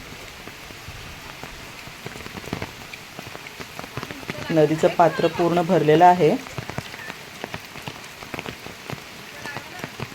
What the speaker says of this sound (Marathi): खूपच पाऊस मोठा पडला आहे कोकणामध्ये